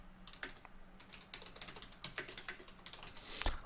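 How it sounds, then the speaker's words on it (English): Fingers type on a computer keyboard in irregular bursts of quiet, close clicks and taps, with a few louder key strikes near the end and no talk. "I can type in more things in here"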